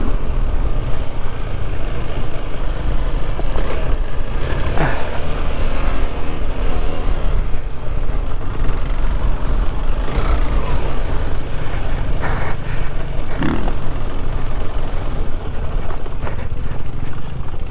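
A KTM 390 Adventure motorcycle rides off road with a steady loud engine drone mixed with heavy wind buffeting on the microphone, continuous throughout with occasional rises in revs and some muffled talk.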